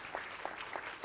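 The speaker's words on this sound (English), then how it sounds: "Please welcome with our applause." Brief applause from a forum audience welcoming a technology executive to the stage, a steady patter of clapping at moderate distance with no voices over it.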